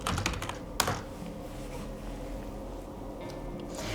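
Fingers type on a computer keyboard, a steady run of quick, light key clicks with one sharper tap early on, fairly quiet and close, with no talking.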